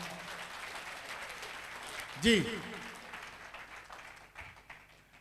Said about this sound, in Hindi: एक बार जोरदार ताली बजा के दिखाएंगे सारे लोग अपने लिए